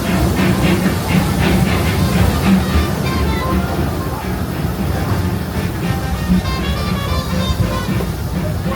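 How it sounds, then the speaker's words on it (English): The Disneyland Railroad train rolls into New Orleans Square Station, a continuous loud rumble and hiss of the moving train up close, with faint voices under the steady noise. "Train's still moving"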